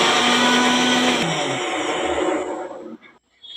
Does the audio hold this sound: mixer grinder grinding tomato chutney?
yes